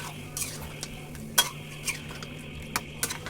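Beef cooking down with chui jhal and whole garlic simmers faintly while a spoon scrapes and taps against the pot in a few scattered, distinct knocks, with no voices.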